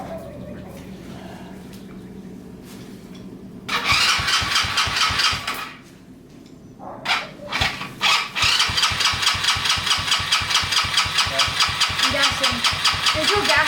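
A small gas engine starts up: a starter whirs at first, then the engine catches and idles with a fast, regular chugging, stalls briefly, and restarts, running close and loud while people talk.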